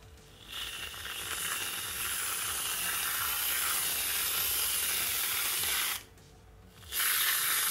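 Whipped cream sprays from a can onto a homemade caramel frappuccino in a long, loud, steady hiss, which breaks off briefly and then starts again for a short final burst.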